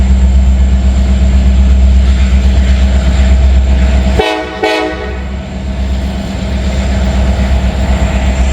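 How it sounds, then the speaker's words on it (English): A diesel train horn blasts loudly for about a second over the steady, heavy rumble of an EMD locomotive engine that continues throughout, near a work zone. "Gonna hear him honking until he gets through that work zone"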